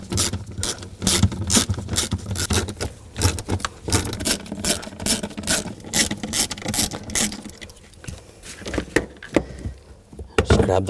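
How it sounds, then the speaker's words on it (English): A 10mm socket ratchet works nuts off a cover inside a 2000-2006 BMW X5 during fuel sending unit replacement. Close, sharp rapid clicking comes in repeated bursts with short pauses, with no talking. "use a 10mm socket, take these nuts off"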